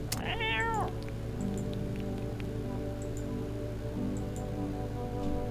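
A cat gives one clear, rising-and-falling meow near the start, then the rest stays quiet, with only faint ticks and light background hum.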